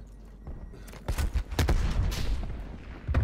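KSP45 submachine gun firing in Black Ops Cold War multiplayer, several sharp bursts of shots in quick succession with other game noise between them, close and moderately loud.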